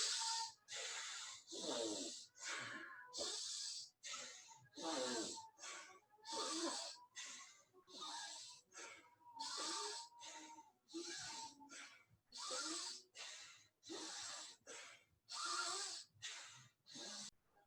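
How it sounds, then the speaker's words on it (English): Rapid alternate nostril breathing in pranayama practice, a long run of quick, forceful, hissing nasal inhales and exhales in an even rhythm, close and alone with no talk. "blocking left nostril, exhaling with right, inhaling with right, exhaling with left"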